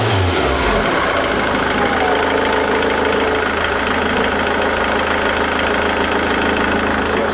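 A diesel car engine with an air mass meter and rail pressure sensor under test is revved hard, roaring loud and steady at high revs from start to finish after a brief low rumble at the outset, close up.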